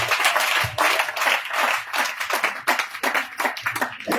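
Church congregation clapping and applauding after a testimony at a festival of testimonies: a close, loud burst of many hands in uneven waves, without pause.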